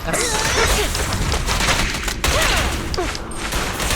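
Rapid bursts of enemy gunfire crackle through a busy battle in the video game Zenless Zone Zero, layered over a loud, dense mix of game effects and music.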